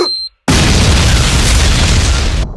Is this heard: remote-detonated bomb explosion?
yes